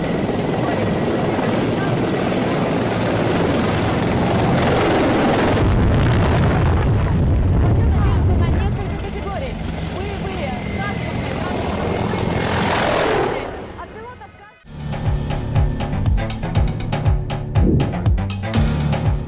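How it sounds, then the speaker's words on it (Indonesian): A military helicopter flying low directly overhead, its loud rotor roar building and sweeping past before fading, then an abrupt cut to different rhythmic sounds. "helikopter militer melintas hanya beberapa inci di atas kepalanya"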